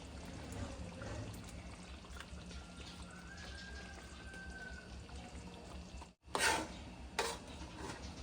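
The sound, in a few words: pouring water into cooking pot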